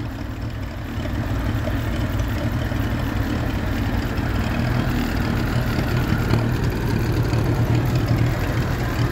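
A 1958 Massey Ferguson 35 tractor engine running on TVO, a steady loud low rumble that holds constant throughout, close by with no voices.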